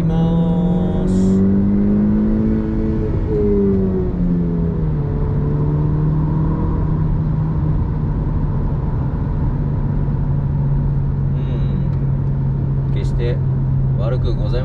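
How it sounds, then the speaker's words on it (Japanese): New-model Honda Civic engine revving: the pitch climbs steadily for a few seconds, then settles into a loud, even hum under road and wind noise. "回転上げていきます。"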